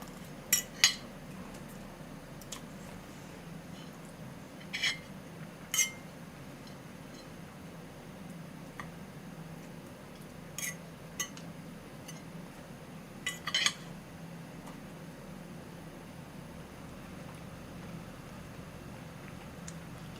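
Scattered light clinks of cutlery against dishes during a meal, a few isolated taps and scrapes spread over a quiet room hum, no talking.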